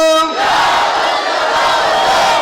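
A large crowd at an international Sunni religious conference bellows the Nara-e-Takbir chant in unison, a loud, sustained mass shout following a brief higher-pitched voice at the start.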